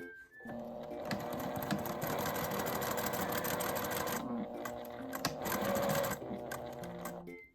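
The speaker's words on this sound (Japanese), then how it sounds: "返し口をつけて縫います。" Sewing machine stitching ribbon fabric, a close, steady mechanical whirr with a short pause partway through and fine repeating clicks, running quietly with no talk over it.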